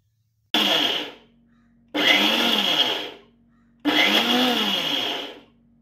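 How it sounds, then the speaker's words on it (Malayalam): Mixer grinder on pulse mode crushing chutney in a closed jar: three short loud whirring bursts, each about a second long with a sharp start and a falling whine, separated by brief pauses. "മിക്സിയുടെ പൾസ് മോഡിലാണ് ഇത് ക്രഷ് ചെയ്തെടുക്കുന്നത്."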